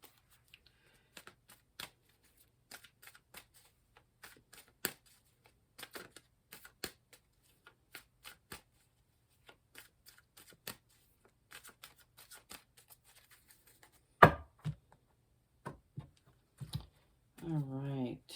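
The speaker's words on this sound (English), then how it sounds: "Actually, no, I'll shuffle a little bit more." Tarot cards being shuffled by hand, a sparse run of quiet riffling clicks and taps with gaps, followed near the end by a louder card flick and a brief spoken voice.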